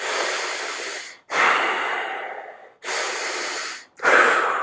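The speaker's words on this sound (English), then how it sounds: "you can take about 120 deep breaths as you do this. Deep in, deep out." Slow, deep belly breathing during a breathing exercise: four long, loud, close breaths alternating in and out, each a couple of seconds of airy rush separated by brief pauses.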